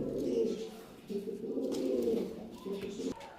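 Pigeons in a loft of red-tail, black-tail and homer breeds coo in low, rolling phrases, several close overlapping calls in repeated bursts.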